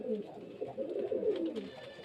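Close, low throaty cooing of pigeons for sale rolls on continuously, with a faint voice in the background.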